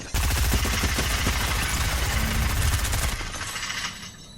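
A sustained burst of rapid automatic gunfire in the video game Fortnite, loud and continuous for about three seconds before tapering off.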